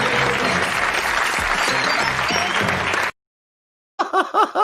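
Studio audience applause at a TV chat show, dense and loud for about three seconds, then a sudden drop to silence before bursts of laughter and talk come back.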